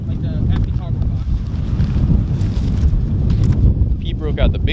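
Gusty outdoor wind buffets the microphone with a constant low rumble, loud and close, while people talk intermittently over it.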